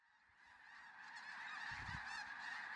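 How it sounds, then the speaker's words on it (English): Flock of cranes calling at a wildlife refuge, a layered chorus of rolling, trumpeting calls from many birds at moderate distance, growing slightly louder, with no talk. "There's an amazing feeling you get when you hear cranes."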